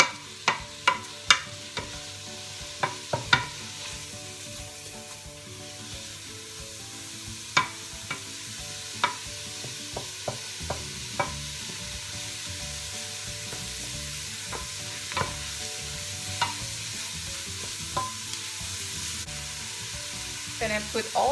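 Beef rendang ingredients sizzling steadily in a pan while being stirred, with scattered sharp clacks and scrapes of the utensil against the pan throughout and no voices.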